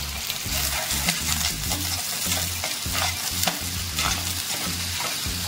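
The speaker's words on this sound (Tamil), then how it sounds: "கொஞ்சம் கலர் மாறுற அளவு நல்லா வதக்கலாம்" Shallots and garlic with curry leaves sautéing in a hot pan, a loud, constant close sizzle with steady stirring scrapes throughout and no talking.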